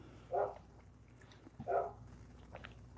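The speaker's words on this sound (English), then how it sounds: "My neighbor's dog is going off right now." A neighbor's dog barks outside twice, muffled and fairly faint, about a second and a half apart, over a quiet indoor background.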